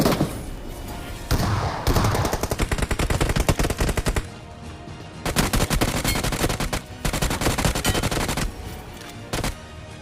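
Heavy gunfire in the BGMI battle royale game: dense, loud bursts of rapid automatic shots in long runs, broken by short pauses, with no talking.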